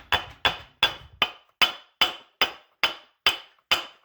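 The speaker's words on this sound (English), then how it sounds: "A few taps with the hammer there, you can see it's coming out." Hammer blows tap out a bearing from the front differential of a 2006 Polaris Sportsman 500 EFI ATV, about ten sharp metallic strikes evenly spaced and close up, each ringing briefly before fading.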